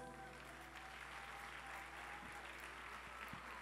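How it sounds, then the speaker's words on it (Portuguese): A church congregation applauds for Jesus during a service, a faint, steady wash of clapping heard from a distance over a low hum, with a couple of brief knocks. "recebe uma salva de palmas a Jesus"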